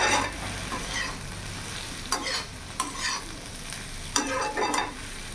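Potatoes and okra with Maggi masala fry in a pan, a soft steady sizzle broken by several sharp scraping stirs of a spatula at irregular intervals, with no talking.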